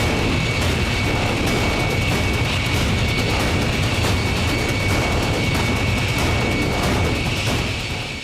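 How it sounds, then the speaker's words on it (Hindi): US fighter jets, bombers, transport planes and tankers roar at a Guam military base, a loud, unbroken jet engine rumble and hiss throughout with no talking. "एलिफेंट फॉर्मेशन में अमेरिका के fighter jet, transport plane, aerial fuel tanker और बॉम्बर्स ने गर्जना की"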